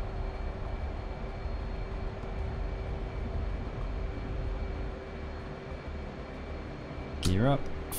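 F/A-18C Hornet jet engine in afterburner on takeoff in the DCS flight simulator: a steady, loud, broadband roar holding for the whole stretch, with a brief rising electronic tone near the end.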